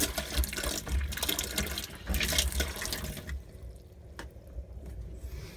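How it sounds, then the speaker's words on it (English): Water pours steadily from a tap in a 2000 Peugeot Autosleeper Polensa motorhome shower with some low rumbling, then the flow drops to a quieter trickle partway through. "It seems to be flowing a bit better now, the water."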